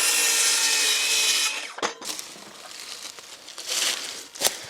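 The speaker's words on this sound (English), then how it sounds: "I believe I'm just going to cut this in half" A power saw cuts a wooden board in half, a loud steady buzzing rasp for about a second and a half that then stops, followed by scattered knocks and handling clatter.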